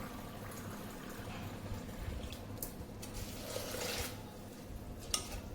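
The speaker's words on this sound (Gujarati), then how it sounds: "બે કપ જેટલું પાણી નાખીશું." Water runs and splashes steadily for several seconds as about two cups are poured onto lentils, a continuous close pouring sound with a brief clink near the end.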